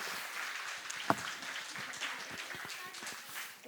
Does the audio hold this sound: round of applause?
yes